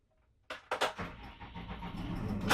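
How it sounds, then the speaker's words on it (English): After a moment of near silence, the engine of a Wacker Neuson RC110 cranks with a few sharp bursts and catches, settling into a steady running idle just under 900 RPM. "So we're going to start the engine."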